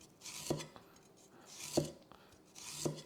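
A knife slices a small piece of ginger on a board in three evenly spaced, soft chopping knocks, each with a faint scraping swish, quiet and close, with no talk.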